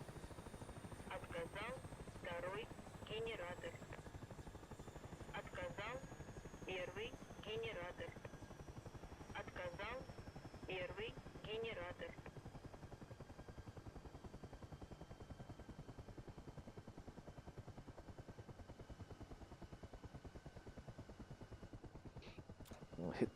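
Mi-8 helicopter engines in a flight simulator game spin down, a steady rotor and turbine drone with a slowly falling whine, with someone talking over the first half.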